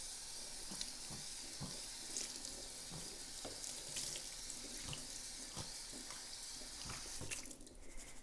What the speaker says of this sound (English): So you want to give your quinoa a good rinse until the water runs clear.